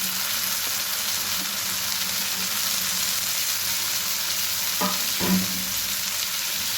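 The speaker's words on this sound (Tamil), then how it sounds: "ஃப்ளேமை சிம்மில் வச்சுருங்க. நல்லா வதக்கணும்." Drumstick flowers and onion sauté over a low flame in a pan, a steady close sizzle throughout with a couple of sharper spatula scrapes and clinks near the end, no talking.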